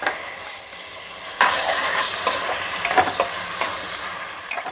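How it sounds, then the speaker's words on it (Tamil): Onion and fresh green peas sautéing in a pan for a pilaf, with a loud, steady sizzle and the scrape of a spoon stirring throughout, with no voices. "வெங்காயம் வதங்கிருச்சு. ஒரு 1/4 கப்பு ஃப்ரெஷ் பச்சை பட்டாணி அதையும் சேர்த்துக்கோங்க."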